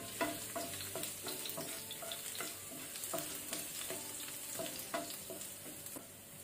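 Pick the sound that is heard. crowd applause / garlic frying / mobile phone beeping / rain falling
garlic frying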